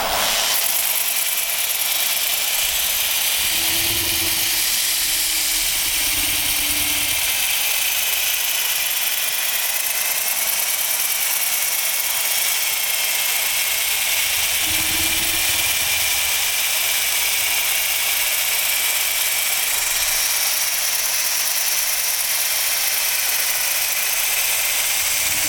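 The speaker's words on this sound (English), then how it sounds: "now I'm just going to sand through all my grits" Steady broadband hiss of sandpaper against a wooden bowl spinning on a lathe, continuous and fairly close, with a faint low hum and a few brief low thumps.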